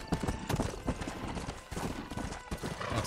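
A horse gallops in Red Dead Redemption, its hooves pounding out a fast, even clip-clop rhythm up close, with a brief whinny-like snort mixed into the run.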